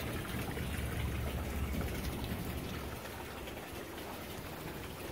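Cooling water from the air conditioner on a 1994 Mainship 40 Sedan Bridge boat in Clearwater, Florida trickles and splashes in a soft, continuous patter, faint and steady with no voices.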